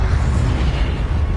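An Incendio fire spell cast in Hogwarts Legacy, a brief dense whooshing burst of flame, loud and continuous for about a second.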